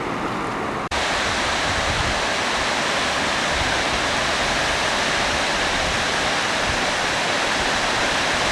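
Horsetail Falls in Keystone Canyon, Alaska, heard as a loud, continuous broadband roar of falling water that holds steady throughout after a brief cut near the start.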